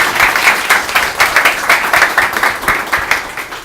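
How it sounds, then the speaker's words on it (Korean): An audience at a Korean business forum breaks into applause after a guest speech, loud dense clapping with a rippling rhythm that continues without pause. "큰 박수 부탁드리겠습니다"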